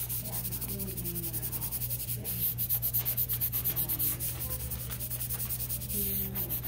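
Sandpaper rubbed back and forth over KT tape applied to a fractured wrist, giving a fast, steady rhythmic scratching with a low background hum, close and quiet.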